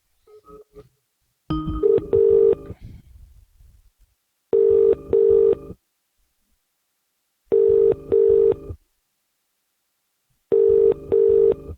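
Telephone call being placed: a brief burst of dialing tones, then four evenly spaced double-pulse ringback tones on the line, each about a second long, loud and clear with silence between.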